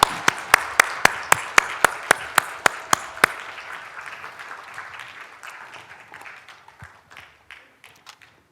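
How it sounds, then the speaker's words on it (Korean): A church congregation at a Sunday combined worship service claps in praise, starting with a run of loud, evenly spaced sharp claps that give way to scattered applause fading gradually toward silence. "하나님께 영광의 박수 올려드리겠습니다."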